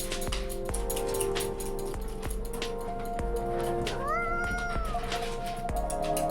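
A cat meows close by in a quiet room, a couple of rising, drawn-out mews in the middle, over a steady hum and a repeating soft thump in the background.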